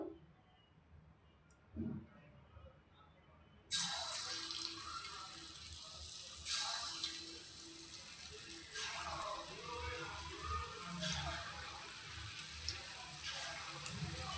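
Gram flour bajjis frying in hot oil: after a few quiet seconds, a loud, steady sizzling hiss with crackle rises as the battered pieces go into the pan and keeps bubbling close by.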